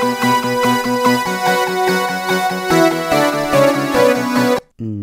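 Several layered synth parts play together in an electronic track, a bright steady rhythmic pattern over a lower sustained note, loud and close, cutting off abruptly near the end.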